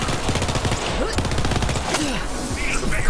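Rapid automatic M4 fire in the video game Borderlands 3 during an Amara build fight, a dense, loud and near-continuous stream of shots with overlapping game effects for the whole stretch.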